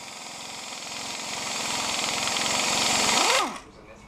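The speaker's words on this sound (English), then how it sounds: "we just use the air impact. It just makes it a lot easier, than wrenching it." An air impact wrench loosens a bolt on a boat engine during an engine swap on a 32-foot Carver, giving a loud, steady buzzing rattle for over three seconds before it winds down and stops.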